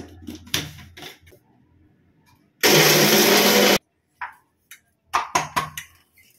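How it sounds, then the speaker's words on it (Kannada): A mixer grinder whirs loudly for about a second while grinding cumin, coriander and tamarind for a shrimp chutney powder, with a scatter of clicks and knocks from the jar and lid before and after. "ಇಷ್ಟನ್ನು ತೆಗೆದು ಇವಾಗ ಮಿಕ್ಸಿ ಒಳಗೆ ಹಾಕೊಳ್ಳಿ. ಹಾಕಿದ್ದೀನಿ. ಇವಾಗ ಇದನ್ನು ಫುಲ್ಲು ನುಣ್ಣಕ್ಕೆ ರುಬ್ಕೋಬೇಕು."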